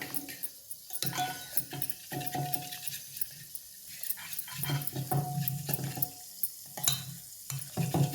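Boiled pigeon pea dal being mashed smooth with a ladle, a run of soft, close scraping and squelching strokes over a busy kitchen background with occasional brief clatters.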